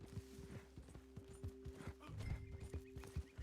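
Horse hooves clip-clop in a steady walking rhythm in the Red Dead Redemption video game, fairly close, with a heavier burst of hoofbeats midway and faint background ambience.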